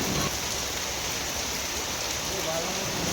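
A steady wash of rainfall hisses throughout, even and unbroken, with a faint voice briefly under the noise.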